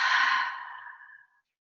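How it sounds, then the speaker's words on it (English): A single deep breath exhaled through the mouth during a guided mindfulness meditation, a close, breathy sigh that starts strong and fades out over about a second, followed by silence. "and breathe out through your mouth."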